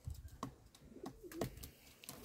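Yellow Czech show pigeons coo softly in a new loft, several low repeated coos spaced through the moment with faint tapping and rustling around them.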